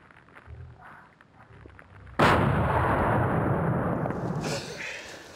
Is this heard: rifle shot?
yes